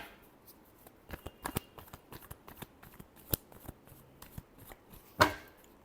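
Tarot cards being shuffled by hand for a reading, a run of crisp riffling and slapping bursts with one sharp louder snap near the end, close and alone without talk.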